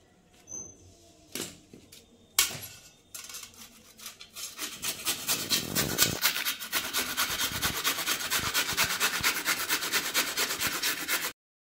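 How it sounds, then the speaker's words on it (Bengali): Peeled radish scraped against a grater, starting with a few separate rubs and building into a steady rapid rasping rhythm, close and fairly loud, with no voices. "এখন মূলোগুলো আমি ঘষে নেব"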